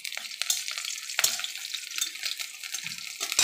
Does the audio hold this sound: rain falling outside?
no